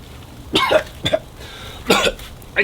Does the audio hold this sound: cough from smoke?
yes